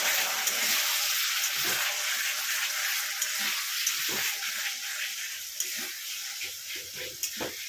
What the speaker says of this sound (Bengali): দিয়ে এটাকে আমি এবার ভালো করে কষাই।